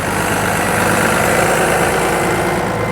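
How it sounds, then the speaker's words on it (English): A heavy diesel tractor engine, turbo intercooled, idles steadily and smoothly at a vintage show, loud and close, with a constant low rumble and no voices. "That sounds way too good to be a tractor."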